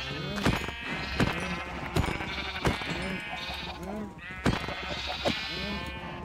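Sheep in Minecraft survival gameplay (version 1.20.2) bleat repeatedly, close and steady, with sharp hit-like clicks punctuating the calls.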